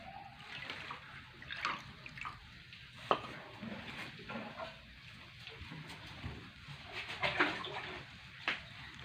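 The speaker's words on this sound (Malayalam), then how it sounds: "നമുക്ക് ആസിഡ് ഒഴിച്ച് കൊടുക്കാം." Diluted acid trickles and splashes into a dish of rubber latex during sheet making, a continuous watery pouring sound with small irregular splashes, close and fairly quiet.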